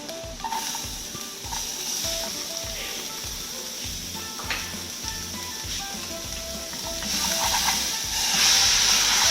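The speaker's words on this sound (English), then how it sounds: "I'll just add the chopped up garlic, add some onions" Chopped garlic and onions frying in a cooking pot for Swahili biryani, a close continuous sizzle and hiss with stirring scrapes, rising louder toward the end, with no clear talking.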